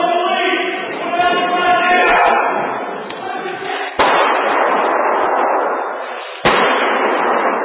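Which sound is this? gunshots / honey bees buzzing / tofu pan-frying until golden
gunshots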